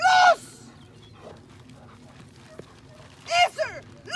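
A dog in bite training tussles with a decoy, letting out sharp barks and yelps at the start and again near the end, with shouting voices and scuffling in between.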